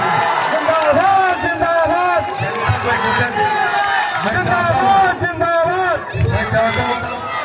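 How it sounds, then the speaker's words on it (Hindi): A large election rally crowd claps and roars, dense cheering and shouting rising in waves with overlapping voices throughout. "ताली बजाकर अपना आशीर्वाद दीजिए"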